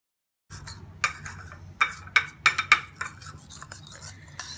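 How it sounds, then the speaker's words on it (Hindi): Thick homemade bleach cream paste being mixed in a small bowl, giving several sharp clinks and scrapes of a spoon against the container at an uneven pace, close and fairly quiet, with no talking. "ये हमने इसमें डाल दिया है, मैं इसे मिक्स करूंगी।"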